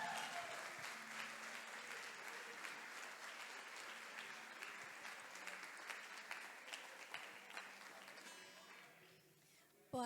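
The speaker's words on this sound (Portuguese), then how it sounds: "Aplauda ao Senhor." Steady applause from a church congregation fills the space, continuous clapping at even loudness that thins and fades near the end.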